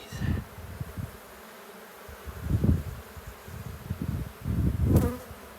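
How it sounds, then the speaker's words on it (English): Honey bees swarm over brood frames during a hive inspection, buzzing steadily up close with rising and falling swells as they fly near. "Lots of bees, lots of bees."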